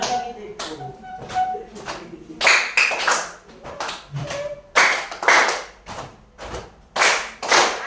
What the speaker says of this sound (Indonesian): tepuk tangan. Hanya 1, 2.